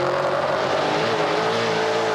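NASCAR Pinty's Series race cars at the 2019 Lucas Oil 250 pound over a rough, bumpy track, a loud, continuous engine roar with rattling and tire noise that never lets up.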